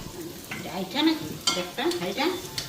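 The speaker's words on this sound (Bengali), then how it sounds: "এইদিকে বেগুন ভাজা আমি বসাই দিলাম" Eggplant slices frying in a pan in a home kitchen, with a steady sizzle broken by several stirring and scraping bursts, fairly close, with no clear talk over it.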